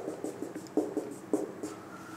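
Chalk or marker scratches across a board during a class 10 physics lesson on reflection of light, a quick series of close, crisp taps and short strokes in an uneven rhythm, with no speech.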